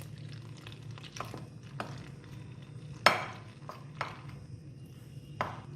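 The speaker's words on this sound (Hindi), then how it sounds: "अब हम बेसन को मिक्स करने लगे हैं। नीम गर्म पानी से करना है इसको मिक्स।" Gram flour batter being stirred by hand with warm water in a bowl for onion pakoras: soft, sparse scraping and knocking of a spoon against the bowl at irregular intervals, quiet, with one sharper clink, against a faint low hum.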